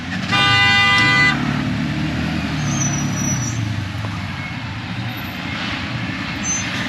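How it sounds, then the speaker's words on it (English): Peak-hour traffic on a road into Lima, Peru, with one loud, sustained car horn blast at the start, then a steady wash of engines and road noise continuing alone. "we got peak hour traffic really"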